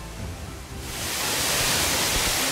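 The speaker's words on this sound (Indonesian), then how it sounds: "Ini dia air terjun tingkat paling atas di mana akan ada canyoning." The top tier of the Leunsalama waterfall on Wawonii gives off a steady, dense roar of falling water that swells louder after the first second and holds with no voices.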